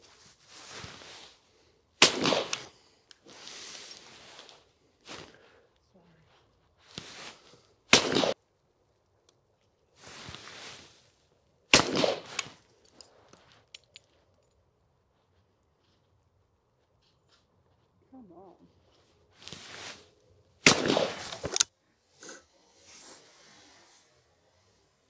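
Sharp .410 shotgun reports at clay targets, several loud separate blasts spaced seconds apart, each with a short ringing tail, with quieter stretches of other sounds between shots.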